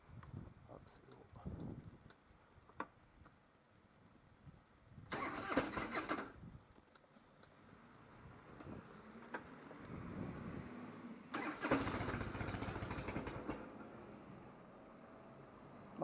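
A Harley-Davidson Evo motorcycle engine, unused for months, cranks in two loud bursts of starter grinding and sputtering, with quieter idling-like rumble and a voice speaking between them.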